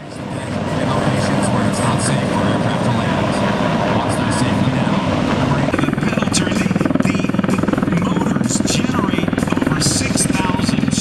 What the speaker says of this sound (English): we got one of the helicopters coming in to fly here in a second